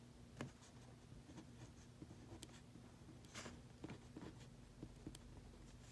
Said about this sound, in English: And I'll write that down.